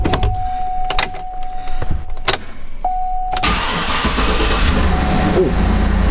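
A 6.2 V8 car engine cranks and catches, giving clicks and a warning chime before settling into a loud, steady idle close by.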